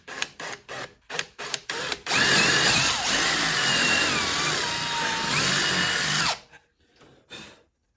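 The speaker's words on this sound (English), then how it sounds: "we've got to drill a couple of holes to be able to get the blade inside the inner part here" Power drill boring holes into scrap wood for a homemade farmers market sign: a few short bursts, then one long steady whirring run of several seconds, close and loud, ending with brief softer blips.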